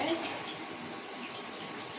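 Water pours into a cooker to boil chickpeas, a steady close splashing stream that holds evenly for the short stretch.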